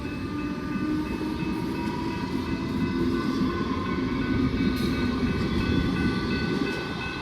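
A Frankston line train rumbles steadily past the Station Street level crossing in Seaford, Victoria, during roadworks, a continuous close rolling roar with faint tonal ringing above it.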